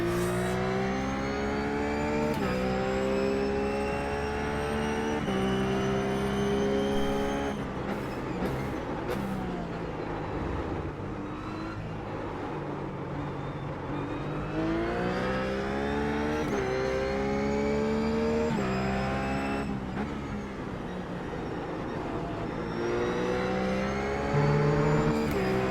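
A RUF race car engine in the iRacing game at Zandvoort roars continuously, rising through repeated revving sweeps and upshifts with brief drops on downshifts, loud and close with no talk.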